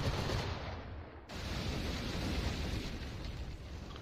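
Ship cannon fire booms in Assassin's Creed IV Black Flag naval combat, a loud, dense, rumbling roar of heavy blasts that briefly dips, then swells again and continues, with no talking.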